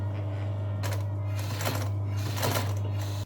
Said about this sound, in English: So I'm just gonna sew that shut.